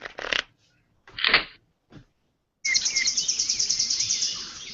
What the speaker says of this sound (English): I think we found some parrots.